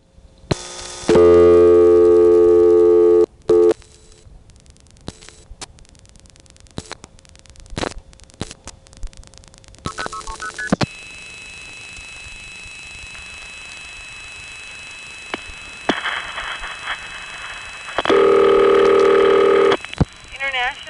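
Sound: payphone dialing over MF tones

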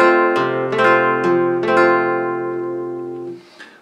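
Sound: flamenco guitar downward arpeggio played as a pull

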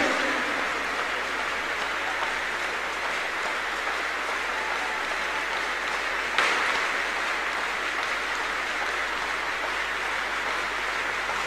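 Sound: congregation clapping as a clap offering

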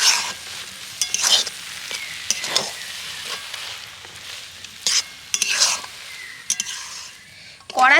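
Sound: stirring raw potato dough in a pan

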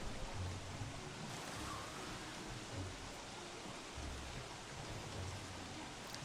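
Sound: ocean waves in Don't Starve Shipwrecked video game

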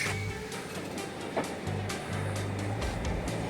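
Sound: train departing

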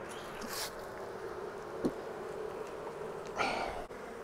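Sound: honeybees buzzing on hive wall

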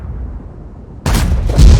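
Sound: tank shell firing and penetrating in World of Tanks video game

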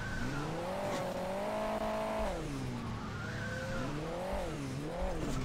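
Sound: car engine driving in video game Hill Climb Racing 2

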